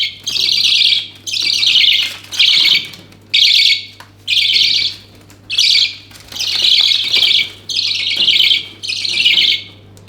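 Hand-fed baby budgies squawk loudly during feeding, giving about a dozen raspy, insistent begging calls in a steady rhythm, close by, with a low hum underneath.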